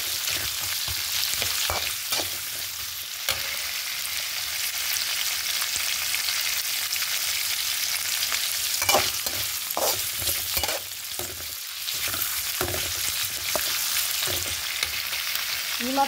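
Green chillies fry and splutter in hot oil for a village-style Andhra okra chutney, giving a steady, close sizzle with scattered sharp pops and stirring scrapes throughout, no voices.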